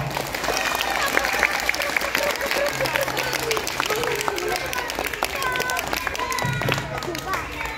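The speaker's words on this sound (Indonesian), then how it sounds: "Beri tepuk tangan untuk Eko." Schoolchildren in an Islamic primary school classroom clap together during an anti-bullying session, a dense, lively patter of many small hands lasting several seconds, mixed with murmuring young voices and scattered chatter.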